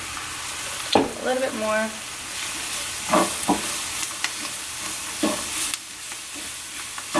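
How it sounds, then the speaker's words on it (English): Crawfish étouffée ingredients sauté lightly in a pan in a New Orleans-style kitchen, a steady low frying hiss with intermittent stirring scrapes and clinks, while a person briefly speaks over it. "So right here, all we're doing is just giving a light saute because this is going to cook for a while."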